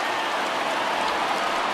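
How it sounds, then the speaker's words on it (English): Steady rain pours down during a baseball game in MLB The Show 20, a dense, even hiss of drops on the surface, continuous and fairly loud with no talk. "the conditions aren't ideal with the rain coming down"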